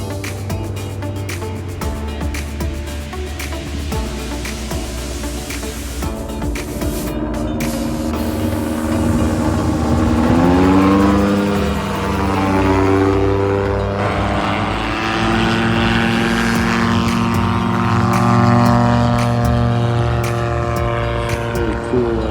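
A model airplane at an airfield during a wheels and wings day buzzes through the air with a loud, droning propeller whine that sweeps up and down in pitch as it passes, while people talk nearby.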